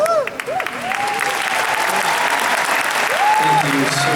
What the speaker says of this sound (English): The applause is all yours.